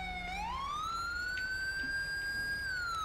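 Ambulance siren in GTA 5's LSPDFR police mod, a single rising wail that climbs and then holds a long high tone, faint and steady over a low rumble of road noise.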